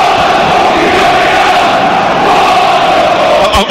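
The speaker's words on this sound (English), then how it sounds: "The crowd are rather aggressively chanting, "What the hell is going on?"" A loud, dense football crowd at Leeds United versus Watford chants aggressively in unison, a sustained roar of many voices filling the stadium without pause.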